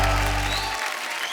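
Brief burst of television studio audience applause welcoming a singer, dense clapping from a crowd heard close, fading after a low musical tone cuts off.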